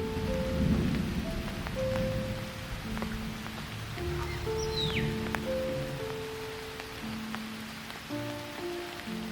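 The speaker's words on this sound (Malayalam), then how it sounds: "അപ്പോഴേക്കും ചെറിയൊരു ചാറ്റൽ മഴയൊക്കെ തുടങ്ങി" Steady light rain falls in a forest in Periyar Tiger Reserve, Thekkady, a soft continuous patter of drizzle on leaves and surfaces with a faint distant rumble beneath it.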